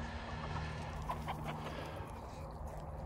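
Meat chickens of a cross-breed cluck steadily in a grassy, weedy field, a continuous low flock murmur with a few brief calls standing out, no voices present.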